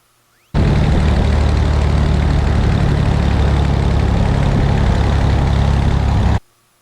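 A small airplane's piston engine runs at a steady low idle while taxiing slowly on the ground after landing, loud and close. It starts abruptly and cuts off just as suddenly about six seconds later, with no talking.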